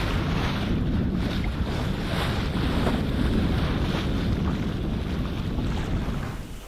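A sailboat makes way across the open Pacific at about 8–9 knots in fresh wind, with steady rushing water and waves against the hull and constant wind buffeting the microphone, loud and continuous throughout.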